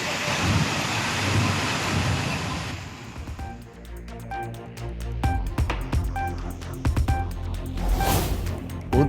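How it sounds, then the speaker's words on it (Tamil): Heavy monsoon rain pours down in Hyderabad and Visakhapatnam as a dense, roaring hiss for about three seconds, then cuts away to a sequence of clear musical tones and chimes. "ஹைதராபாத் மற்றும் ஆந்திர மாநிலம் விசாகப்பட்டினத்தில் கொட்டி தீர்க்கும் கனமழை"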